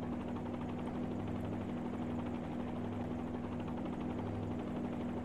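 A helicopter hovering in a flight simulator game gives a steady, loud rotor and engine drone with a constant low hum and a broad whine, holding unchanged throughout with no talking.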